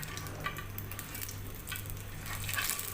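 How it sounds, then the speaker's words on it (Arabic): Stuffed baladi bread frying in hot oil in a pan, giving a steady close sizzle and crackle with brief pops and no talk. "هنا هحطه اهو كده العيش، الزيت سخن معايا"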